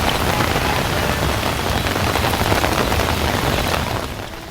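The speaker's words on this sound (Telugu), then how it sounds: "ఇవాళ భారీ వర్షం కురవడంతో" Steady, dense downpour of heavy rain in Hyderabad hissing loudly and evenly throughout, easing slightly in the final moment.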